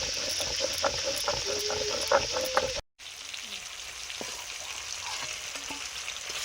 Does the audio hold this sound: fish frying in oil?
yes